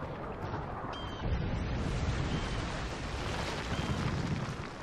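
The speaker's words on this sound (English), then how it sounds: "Friendly Predator missile inbound" A Predator missile explodes in Call of Duty MW3 during a Kill Confirmed match on the Liberation map: a sustained, loud, roaring blast rumble with a heavier surge after the first second, alone with no talk.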